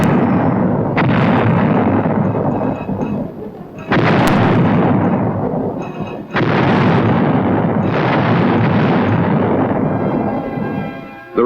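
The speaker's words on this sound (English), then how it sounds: "the 11th Armored Cavalry Regiment was equipped with self-propelled 105mm howitzers" Self-propelled 105mm howitzers of an armored cavalry regiment fire in loud, booming blasts, several heavy reports each rolling into a long rumbling echo, spaced a few seconds apart.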